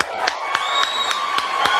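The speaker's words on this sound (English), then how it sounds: "Y'all clap it up for that." An audience claps and cheers on a sports talk show, with a crowd's steady applause and a few sharper claps at a regular beat, fairly close under a background hum.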